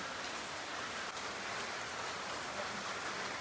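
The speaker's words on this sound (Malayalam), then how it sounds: "നല്ല മഴയുള്ള ദിവസമാണ് കേട്ടോ. രാവിലെ തൊട്ട് മഴയാണ്." Steady heavy rain falls continuously on a rainy day, a dense even hiss with no pauses and no voices.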